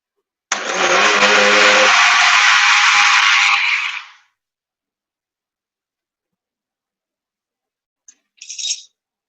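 An electric grinder whirs loudly for about three and a half seconds while grinding almonds for macarons, then cuts off; after a long silence a brief second burst is heard.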